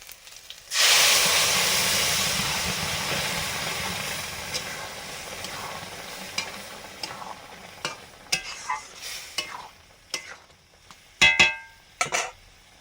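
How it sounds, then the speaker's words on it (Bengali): Boiled red lentils and bottle gourd go into a hot cooking pot with a sudden loud sizzle that slowly fades, followed by scattered stirring scrapes and clatters toward the end, with no voices. "সেদ্ধ করা মুসুর ডাল আর লাউটা দিয়ে দিচ্ছি।"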